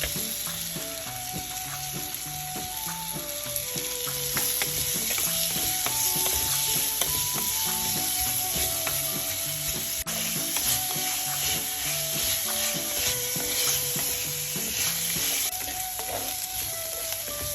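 Onions sizzle steadily in a hot pan for Tellicherry-style fish molee, with salt added and stirred through, a continuous frying hiss under faint clicking, level and fairly close with no voices.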